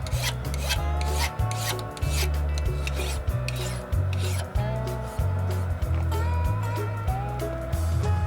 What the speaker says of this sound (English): We continue by removing one of the corners of the punch with a file.